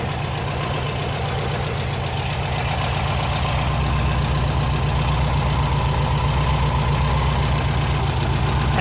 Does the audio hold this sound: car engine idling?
yes